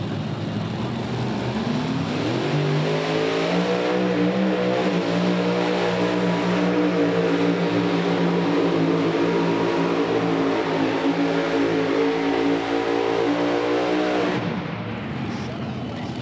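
Super modified four-engine pulling tractor at a tractor pull in Farley, Iowa, roaring loudly and steadily with layered droning engine tones, an announcer talking over it.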